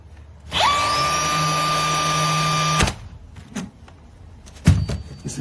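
A Bosch GNH 18V-64 cordless nailer driving nails into wood: a motor whine rises quickly and holds steady for about two seconds, stops abruptly, and a single short thump follows a moment later.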